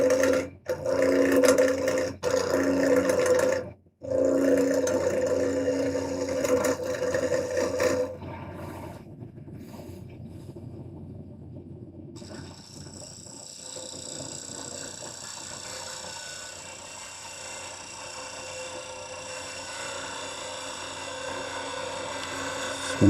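A woodturning lathe spins while a ball gouge takes light cuts, giving a rough scraping hum with brief pauses early on, then a quieter, steady motor drone with a thin high whine.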